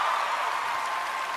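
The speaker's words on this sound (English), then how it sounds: "Let's give that another round of applause." Dense, even audience applause at the 2017 American Music Awards, a continuous hiss-like wash of clapping from a large crowd with no break.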